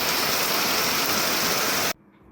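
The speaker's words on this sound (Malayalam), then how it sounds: "പറഞ്ഞു തീരുന്നതിന് മുമ്പ് മഴയും ഇങ്ങെത്തി" Summer rain pours in a dense, even hiss of drops, close and fairly loud, before stopping abruptly after about two seconds.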